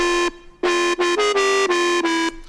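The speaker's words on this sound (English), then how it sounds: "So you can probably already hear that that is pretty much just an overdriven square." Buzzy overdriven square-wave synth lead playing a short melodic phrase of several punchy notes, bright and alone.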